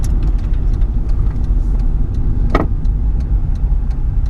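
Loud, close engine of a cheap used car droning steadily from inside the vehicle on a drive around town, with a low rumble throughout and a brief sharp click midway.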